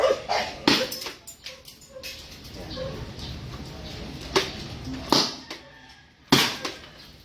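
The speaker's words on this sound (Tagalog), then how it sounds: "medyo maingay lang yung aso natin." A dog barks in sharp, irregular bursts at fairly close range, interspersed with whimpers and yips, while a person talks quietly in between.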